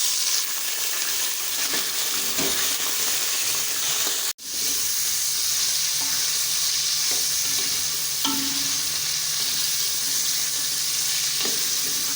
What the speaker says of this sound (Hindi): थोड़ा ब्राउन हो गया है तो हम इसमें डालेंगे गोश्त